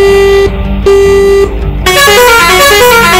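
A Chennai town bus horn honks in Euro Truck Simulator 2: two loud, short tonal blasts, then a longer, multi-note musical horn sounding close and very loud.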